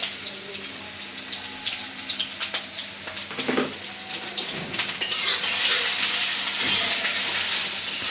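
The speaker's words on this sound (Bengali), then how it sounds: "তেল গরম হয়ে গেছে দিয়ে দিব পেঁয়াজ কুচি দিয়ে দিব কাঁচামরিচ" Chopped onions and green chillies frying in hot oil in a village kitchen, giving a steady, loud, close sizzle that swells and becomes more intense midway through.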